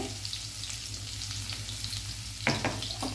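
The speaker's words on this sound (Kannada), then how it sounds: "ಇದು ಒಗ್ಗರಣೆ." Steady crackling sizzle of crushed garlic tempering in hot oil, close and continuous, with a few sharper spits and pops near the end.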